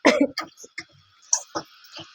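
A burst of several harsh coughs, the first loudest, followed by a few shorter throat-clearing coughs, close by with no talking.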